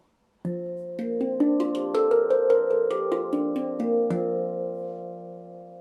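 Handpan in the F Juno scale played alone, a sequence of bright ringing struck notes rising and falling in a steady rhythm, overlapping with long sustained metallic tones that linger and fade at the end.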